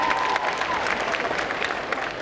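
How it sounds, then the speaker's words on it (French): Steady audience applause at a cosplay contest on a convention stage, a dense wash of clapping hands filling the whole stretch at an even level, with no voice over it. "Et applaudissez donc Anthony"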